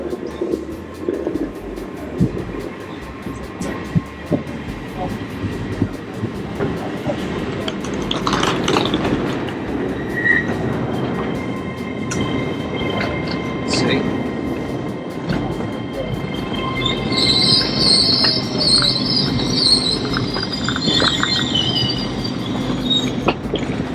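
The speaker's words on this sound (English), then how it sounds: "Here comes our train to Edinburgh." A train to Edinburgh rumbles steadily into Cambridge station, wheels squealing high and brakes hissing as it slows, the rolling noise continuous and fairly near throughout.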